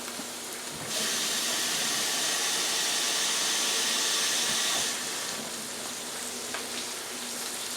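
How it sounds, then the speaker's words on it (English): Water poured into a hot frying pan of T-bone steaks and gravy bursts into loud hissing sizzle for a few seconds, then settles into a softer steady bubbling hiss. "Now I'm going to add water."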